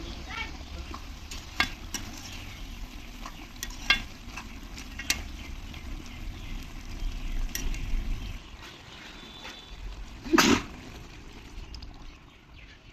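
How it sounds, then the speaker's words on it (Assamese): Chicken and kohlrabi fry steadily in hot oil, a soft continuous sizzle with intermittent scrapes and clinks of a stirring spoon against the pan, one louder scrape near the end, no talking. "এতিয়া খুব ধুনীয়াকৈ ভাজি ল'ম।"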